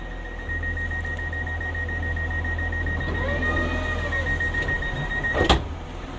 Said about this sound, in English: I can close the door by pressing the close button.